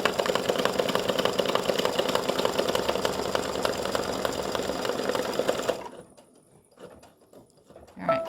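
An embroidery machine stitches a heart design on card stock backed with tearaway stabilizer, a fast rapid-fire mechanical chatter close by that runs steadily, then stops abruptly, leaving a few faint clicks.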